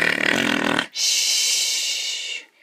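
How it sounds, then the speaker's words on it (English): A cartoon dragon princess snores loudly in a story sound effect, one long rasping inhale followed after a brief gap by a steady hissing exhale, close and alone with no talk. "He timed her snores."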